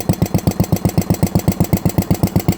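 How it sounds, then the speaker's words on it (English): A generator engine runs with a steady, rapid hollow ticking from its valvetrain, evenly spaced beats repeating about seven times per second, fairly loud and close with no talking. "It is still that same hollowish tick it had before, but it has definitely gotten louder."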